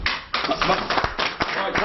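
Applause from an audience at a comedy show breaks out as a dense, steady patter of many hands clapping, close and fairly loud for a couple of seconds.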